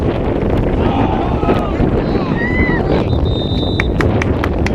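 Strong wind blasts across the microphone at a freshman high school football game, a loud, constant low rumble throughout. Faint crowd sounds and voices are heard underneath.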